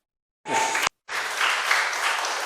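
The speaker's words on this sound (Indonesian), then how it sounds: "Tepuk tangan" Applause at a church worship service after a preacher's call to clap, a short burst of clapping that breaks off for a moment and then resumes steadily, fairly close and moderately loud.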